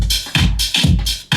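An electronic music loop with an octave-pitched layer and drums plays alone, punchy bass-heavy hits with bright cymbal-like wash repeating in a quick, steady rhythm, loud and close.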